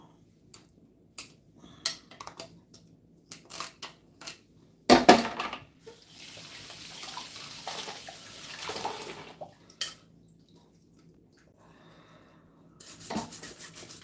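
Running tap water splashes steadily at moderate level while a brush scrubs a juicer sieve, with scattered clicks and rubbing knocks before and after.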